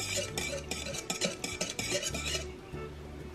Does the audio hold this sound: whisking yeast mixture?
yes